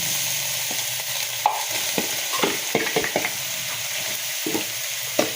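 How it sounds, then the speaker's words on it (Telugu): Carrot fries in ghee on a low flame for jaggery halwa: a soft, steady sizzle close by, with a cluster of spoon scrapes and taps against the pan in the middle and a few more toward the end. "సిమ్లో పెట్టుకొని వేయించుకోవాలి బాగా వేగాలండి ఒక ఫిఫ్టీన్ మినిట్స్ దాకా నెయ్యిలో బాగా వేగాలి"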